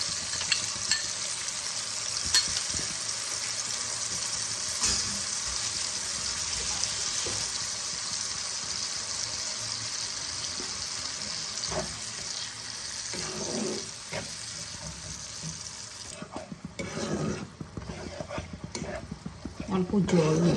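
Ground mustard and poppy seed paste sizzles in a pan as water is added, a steady hiss with stirring scrapes that turns patchier and crackly toward the end.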